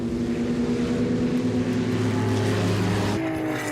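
A Porsche 917 race car accelerates on a race track, a loud, steady engine drone with a sustained whine that shifts slightly in pitch as it gathers speed, heard alone.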